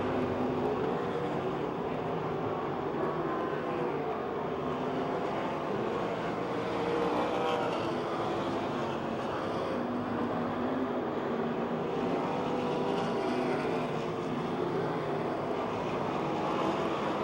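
Sprint cars race around the half-mile oval at Pennsylvania Motor Speedway, their engines making a continuous, dense roar that holds steady and loud throughout without a break.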